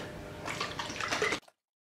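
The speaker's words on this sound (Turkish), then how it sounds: "Hepsini birlikte çaykalayacağım artık." Pasta salad sauce ingredients and oil are shaken together in a container, producing a close, sloshing liquid rattle that lasts just over a second and then stops abruptly into silence.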